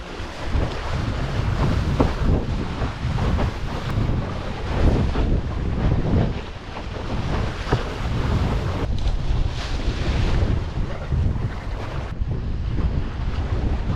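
Strong wind roars across the microphone with surf and waves rushing continuously while windsurfing solo across the English Channel toward a French beach, loud and sustained throughout.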